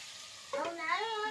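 Food fries in a pan with a soft, close hiss that runs steadily through the short moment, and a voice starts talking over it partway through.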